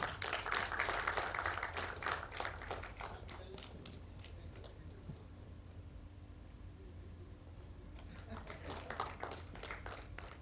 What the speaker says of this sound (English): A round of applause for ma'am.